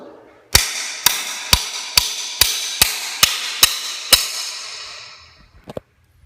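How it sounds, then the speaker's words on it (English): Nine sharp, evenly spaced hammer blows ring out on a metal pry bar driven under a carpet strip on a concrete floor, at a steady rhythm, loud and close, followed by a couple of faint clatters. "So you take this dude at an angle and hammer it underneath there, and you can pry it up."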